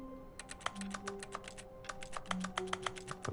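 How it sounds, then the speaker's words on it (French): Typing on a computer keyboard in the video game The Stanley Parable, a quick run of light key clicks in two bursts with a short pause between, faint and close, with no talking. "je peux taper dans le clavier"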